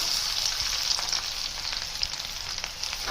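Garlic and onion fry in a pan for cabbage Manchurian, a bright, steady hiss of sizzling oil up close with small crackles and light stirring throughout.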